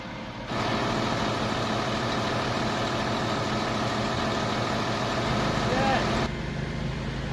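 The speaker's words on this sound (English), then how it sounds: "there was a huge drain truck with flashing lights" A large drain truck's engine runs in a steady, loud, rumbling idle nearby, continuous for several seconds, with a faint beep partway through.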